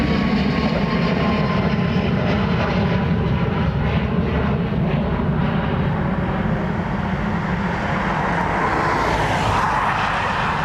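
A Ryanair airliner departs Dublin Airport with a loud, continuous jet engine roar close by, a dense broadband rush that holds steady and rises in hiss toward the end.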